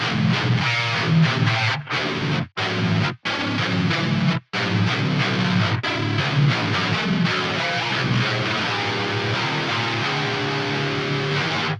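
A heavy, distorted electric guitar played through a Quad Cortex chugs out a loud rhythm riff, with a few abrupt stops before the grinding chords resume.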